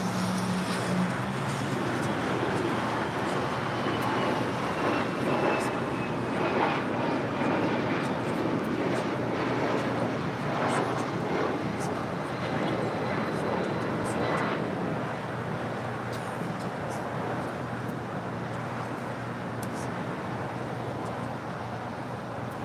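An airliner taxiing on the ground at LAX, turning onto a taxiway, heard as a broad, steady engine rumble and roar held at a fairly constant level throughout, moderately loud and close.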